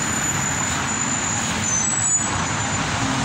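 City buses and trucks rumbling past on Avenida Chapultepec in Guadalajara, a steady, fairly loud stream of heavy traffic noise with engine drone and road roar throughout, no voices.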